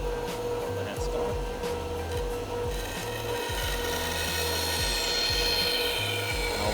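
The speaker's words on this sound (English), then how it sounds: "I'm just going to trim off some of the excess of the headstock" Excess wood being trimmed off a guitar headstock, a close, steady rasping and sawing with repeated rough strokes over a low mechanical drone, with some talk mixed in.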